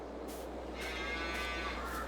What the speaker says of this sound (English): I can hear some cows over here